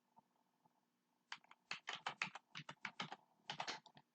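Quick bursts of typing on a computer keyboard while entering a username and password, close and quiet, with irregular clusters of key clicks separated by short pauses.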